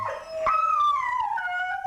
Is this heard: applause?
no